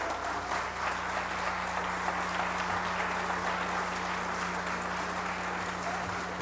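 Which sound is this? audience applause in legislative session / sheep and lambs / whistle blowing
audience applause in legislative session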